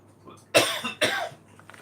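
Two sharp, harsh coughs about half a second apart, fairly close and loud, against a quiet background.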